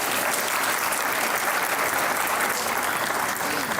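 A studio audience at a Pakistani comedy talk show claps loudly and steadily, unbroken applause filling the whole short stretch.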